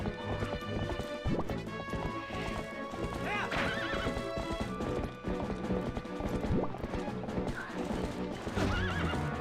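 The horse Epona in Zelda Twilight Princess, rhythmic galloping hoofbeats running throughout with several high whinnies and neighs rising above them, mixed with game music and a voice speaking underneath.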